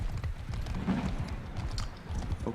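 Horse hooves clip-clop in the medieval battle game Captain Co-op, a rapid, continuous galloping patter of several horses and riders, including horse archers and lancers, heard up close with no talk over it.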